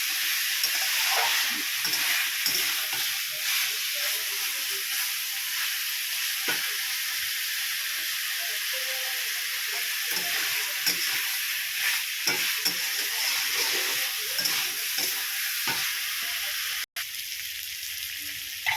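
Spice masala for a Bengali fish curry sizzles and fries steadily in a pan, with soft scraping stirs throughout and a brief sharp knock near the end; no one speaks.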